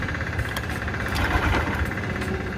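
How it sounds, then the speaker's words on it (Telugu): A BS6 Honda Shine motorcycle with starting trouble runs roughly at close range, its engine chugging and knocking unevenly as it struggles to keep going. "సెల్ఫ్ కొట్టినా సెల్ఫ్ కొట్టినా ఇట్లా బుడుబుడు అని అంటుంది ఆగిపోతుంది"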